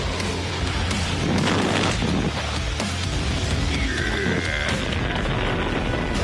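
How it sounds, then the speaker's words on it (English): Booming explosions from a Chinese military exercise, with fake buildings being blown up amid gunfire; dense, loud rumbling blasts that roll continuously through the stretch with no talk. "Yeah, guns, explosions."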